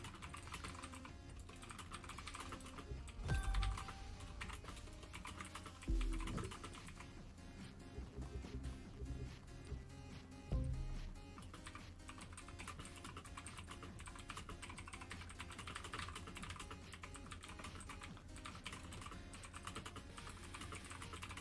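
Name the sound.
typing on a computer keyboard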